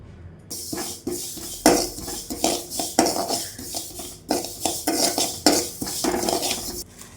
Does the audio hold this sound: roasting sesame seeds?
yes